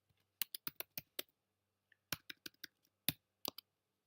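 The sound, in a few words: computer keyboard typing while entering information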